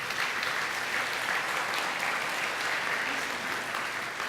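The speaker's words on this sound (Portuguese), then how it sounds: "Você pode aplaudir a Deus por causa disso?" Congregation at a church sermon applauding, a dense, steady wash of many hands clapping together at an even level throughout, with no speech over it.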